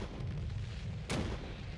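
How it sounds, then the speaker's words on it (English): An explosion in the World War II card game KARDS: a single sharp boom bursts out midway over a steady low rumble of game background sound, brief and fairly loud. "Double explosion?"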